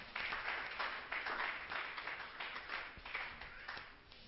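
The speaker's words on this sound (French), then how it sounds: "On acclame très fort pour la parole." Church congregation applauding loudly during a French sermon, a dense, steady wash of many hands clapping that fills the whole clip, easing slightly toward the end.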